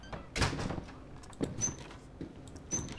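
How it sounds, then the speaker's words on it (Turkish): A door being opened in the video game This War of Mine, a close wooden creak and thud followed by lighter knocks and scrapes at moderate loudness, with no talk. "Aç şu kapıyı."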